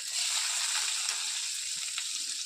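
Garlic sautéing in hot oil gives a steady, close broadband sizzle that holds at an even level throughout, with no voices over it.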